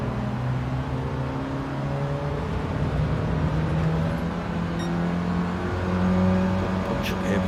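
Classic Mini race cars circulating at Brands Hatch, several engines droning and whining together at middle distance, rising and falling as they pass with a steady layered hum.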